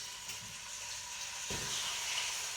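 Hot oil sizzles steadily in a pan while ossobuco is being browned, a soft continuous hiss with a slight surge partway through and no talking.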